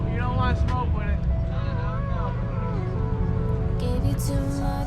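A Honda car's exhaust with both resonators deleted drones loudly and steadily, a deep continuous rumble close by while people talk over it.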